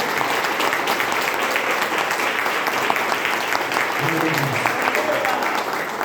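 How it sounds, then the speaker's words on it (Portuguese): Church congregation applauding steadily throughout, a dense, loud clatter of many hands with faint voices mixed in. "Mais palmas para Jesus"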